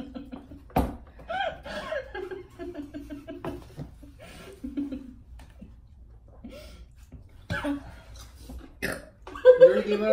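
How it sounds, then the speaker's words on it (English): Loud burps from someone eating spicy fire noodles during a noodle challenge, a few gulping eructations spread across the stretch, mixed with chuckles and chatter from people talking nearby. "I'm burping and that's how you know it's hot"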